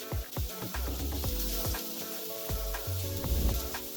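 Vegetables and garlic sizzle and fry in a pan with a splash of veg stock, a steady crackling hiss with occasional stirring scrapes and clinks, close and continuous.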